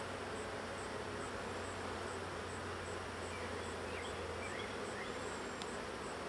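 Honeybees buzz steadily around an opened five-frame hive, a dense continuous drone close by with no one talking.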